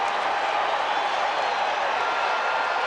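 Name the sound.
baseball crowd noise at Shea Stadium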